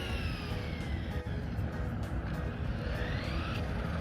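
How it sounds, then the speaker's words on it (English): A Traxxas Bandit RC truck with a chirping noise under high load drives past on a track, giving a faint, steady motor hum with a rising whine partway through. "The truck's coming."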